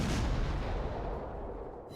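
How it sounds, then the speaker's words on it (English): A naval gun salvo fires in the World of Warships video game, one loud sharp boom at the start trailing into a long rumbling decay. "Just putting some shots in with his guns as he moves towards secondaries"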